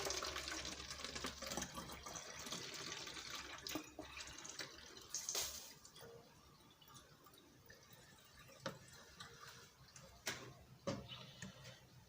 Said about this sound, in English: First, I'm going to transfer my water into the spray bottle.